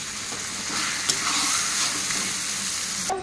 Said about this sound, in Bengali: এখন নেড়ে নেবো ভালো করে